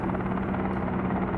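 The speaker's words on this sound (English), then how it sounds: "Spin the helicopter around." A helicopter in a video game helicopter simulator gives a steady rotor drone with a low hum, constant and moderately loud, heard alone without talk.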